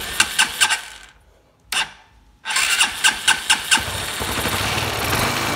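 A Honda Bros 150 motorcycle engine is cranked with a few rhythmic starter pulses, falls briefly quiet, then cranks again and catches into a steady close, mid-pitched idle.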